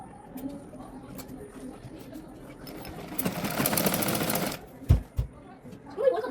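A sewing machine stitches a tucked blouse in a boutique, a dense burst of whirring lasting over a second, with faint coos of pigeons nearby and a couple of thumps afterward.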